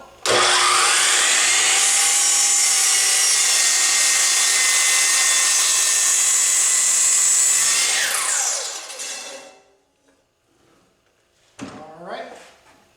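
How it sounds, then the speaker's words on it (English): A power miter saw cuts through a deck board with a loud, sustained high whine for about eight seconds, then spins down and fades, followed by brief speech near the end. "miter cut number 3 in 3"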